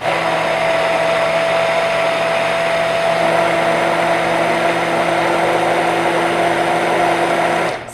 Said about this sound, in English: immersion blender, I'm gonna go ahead and just do it in my bowl